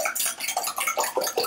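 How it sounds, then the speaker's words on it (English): Eggs whisked with a fork in a dish for a quiche, a brisk, close clatter of quick metallic taps and scrapes in a fast, even rhythm throughout. "So you just have to whisk that together. I'm just using a fork."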